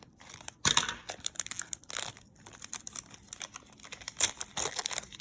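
Close, crisp crinkling and snipping of a plastic trading card pack wrapper cut with scissors, with several sharp cuts and rustles in quick succession.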